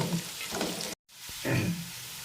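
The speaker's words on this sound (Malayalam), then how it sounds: "ഇത് നല്ലപോലെ ഇളക്കി കൊടുക്കാം അതിലേക്ക് കരിയാപ്പില ഇടുകയാണ്" Beef fry with onions and curry leaves sizzles in a pan as it is stirred, a close, bright crackling hiss broken by a short gap and scraping stirs.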